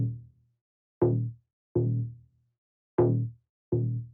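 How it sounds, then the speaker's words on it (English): Synth bass accent built from a sawtooth wave with FM in a progressive house track, heard as five separate punchy, buzzy low notes with sharp attacks and short decays, separated by silence and irregularly spaced. "the sound itself is just a sawtooth with FM in the settings down here"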